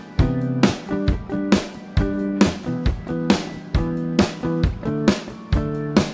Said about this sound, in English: the lead or the rhythm guitar, organ, and drums together will sound like this